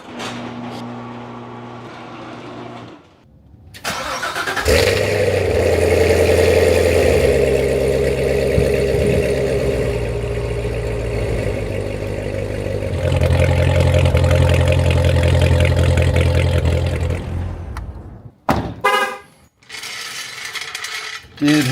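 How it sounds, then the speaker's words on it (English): A C7 Corvette's starter whirs briefly before the engine catches and settles into a loud, steady idle with deep rumbling tones, then cuts off near the end. "Let's fire it up, make sure I don't have any leaks."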